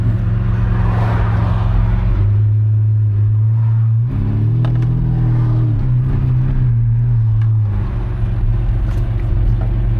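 An 850-horsepower car launches hard using launch control, its engine droning loud and low, then stepping up in pitch through the gears as it accelerates, heard up close from inside.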